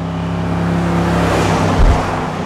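A pickup truck towing 3500 kg runs at full throttle, its engine droning loud and steady with a continuous roar and a brief low thump near the end, with no talking.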